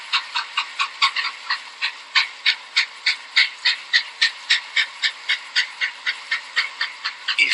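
A steam locomotive chuffs in a fast, even rhythm, with loud bursts of steam repeating several times a second over a steady background hiss and no pauses.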